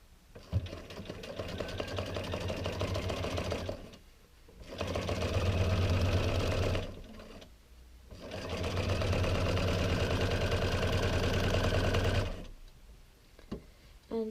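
Domestic sewing machine fitted with a walking foot stitching through a quilt during a quilting group demonstration: three sustained runs of steady, fairly loud whirring with short pauses between them, and no talking.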